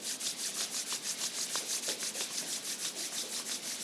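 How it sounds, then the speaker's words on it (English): Hands rubbing briskly together during a guided healing meditation, a steady rhythmic swishing of skin on skin with regular strokes, close and fairly loud, with no talking. "And rubbing the hands together."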